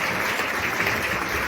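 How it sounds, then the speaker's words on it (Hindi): A crowd at a New Year celebration in a gurukul claps for Sanjeev sir, a dense, even wash of loud applause that holds steady from start to finish. "तो संजीव सर के लिए एक जोरदार तालियां हो जाए।"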